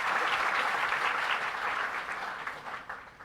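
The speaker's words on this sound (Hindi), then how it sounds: "एक बार आपकी तालियों के साथ स्वागत करना" A crowd applauds at a felicitation ceremony for newly selected primary school teachers, welcoming the chief guest with steady dense clapping that gradually thins and fades toward the end.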